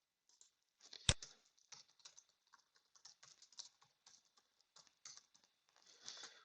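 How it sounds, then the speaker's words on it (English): Quick, light keystrokes patter across a computer keyboard in irregular bursts while someone writes HTML and JavaScript code, with one sharper key strike early; no talking, quiet and close. "I'm going to hold down Tab and type HTML and hit enter"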